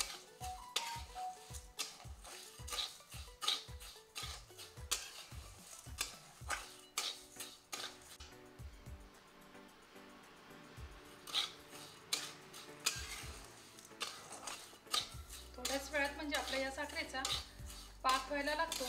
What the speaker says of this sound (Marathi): पण आपण अशी कंटिन्यू ती साखर हलवत राहायची.